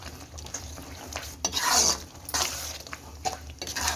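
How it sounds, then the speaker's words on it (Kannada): Andhra-style gongura chutney is stirred in a pan. A spoon scrapes and clinks against the metal with uneven, repeated strokes over a soft sizzle. The sound is close, with no talk. "ಸುಮ್ಮನೆ ಹಂಗೆ ಬಾಣಲೆಯಲ್ಲಿ ಹಾಕಿ ಎರಡು ಮಿಕ್ಸ್ ಆಗೋವರೆಗೂ ಚೆನ್ನಾಗಿ ಮಿಕ್ಸ್ ಮಾಡ್ಕೊಳ್ಳಿ"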